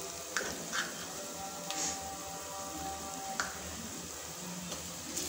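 Ginger and then turmeric sizzling in hot oil in a home kitchen pan for mutton curry, a steady soft crackle with a few sharp pops and faint stirring scrapes, no talking.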